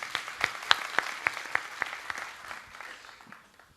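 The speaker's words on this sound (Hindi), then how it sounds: "एक बार जोरदार ताली" A small gathering at a guru's satsang claps in a quick, regular rhythm, individual claps standing out crisply before the applause thins and fades away.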